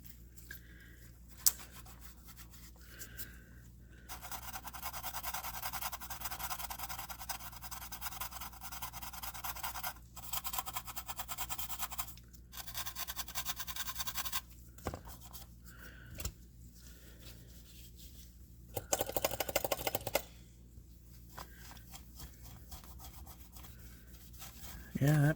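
A fiberglass pen scrubs a circuit board from a Wei-Ya Promax C1000 during crack repair, giving bursts of dry, hissy rubbing strokes separated by pauses, fairly close and quiet over a low hum.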